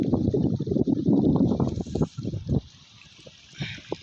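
Irrigation water flows into a maize field on a village farm, a steady, close, gurgling trickle that churns busily, then thins to a quieter flow with a few late splashes.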